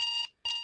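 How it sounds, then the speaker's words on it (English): An alarm clock sound effect from a trivia game, two loud bright electronic beeps separated by a short gap, clear and alone. "Is that an alarm clock sound?"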